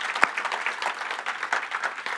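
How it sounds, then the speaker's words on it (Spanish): Applause from a church congregation during a sermon, steady dense clapping held for a couple of seconds. "Den un aplauso a estos muchachos."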